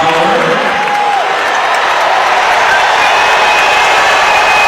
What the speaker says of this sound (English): Crowd ballistic.